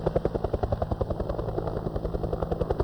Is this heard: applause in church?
no